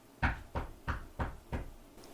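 Five evenly spaced knocks rap on a door in a comedy radio skit, each a firm, close thud with a short gap before the next.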